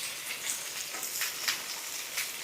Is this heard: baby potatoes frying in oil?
yes